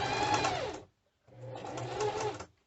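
Sewing machine stitching a seam through plastic sheeting for a medicine wallet: two steady bursts of rapid mechanical whirring and needle clatter, separated by a brief pause, close up and alone.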